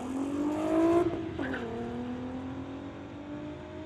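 A 1998 Subaru Legacy and a 2004 VW launch in a street legal drag race, one car revving hard then the engine note dropping and climbing again as it pulls away, moderately distant.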